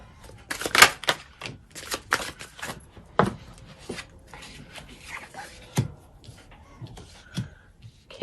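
Tarot cards shuffled by hand in a series of crisp riffling and slapping bursts, some sharp and close, spread irregularly over several seconds with quiet gaps and no talk.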